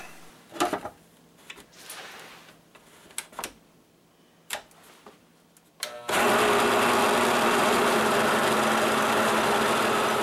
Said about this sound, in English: Run the processor until the chili and garlic are completely ground up and the mixture is creamy.